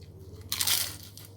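A single crisp, close crunch as a piece of baked phyllo dessert topped with black honey is bitten, short and sharp against quiet room tone.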